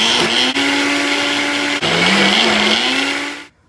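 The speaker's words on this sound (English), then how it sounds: "we're going to puree it until it's smooth" A blender purees cooked sweet potatoes for a pie, running at a loud, steady high-speed whine that dips briefly twice and shifts pitch before cutting off abruptly.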